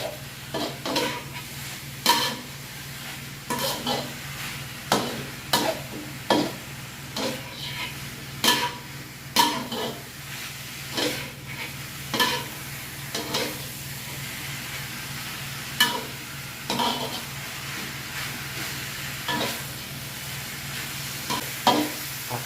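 Frog curry ingredients stir-fried over a high flame, with repeated sharp scrapes of a utensil against the pan roughly every second over a steady bed of sizzling hiss.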